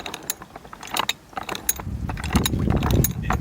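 The crank of a Weston fruit press ratchets while it presses backyard apples for cider. Quick metallic clicks and gear ticks come close up, then settle into a denser grinding rumble.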